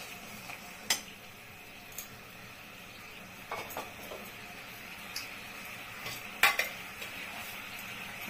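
Masala mixed with curd is stirred in a pan for dahi potol, a spoon scraping and tapping sporadically over a faint, steady background sizzle, with no talking.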